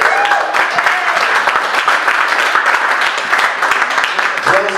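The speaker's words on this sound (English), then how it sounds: "So big round of applause." Audience applause fills a lodge hall during a live comedy show at an Eagles lodge, a steady dense wash of clapping with a few voices and cheers mixed in throughout.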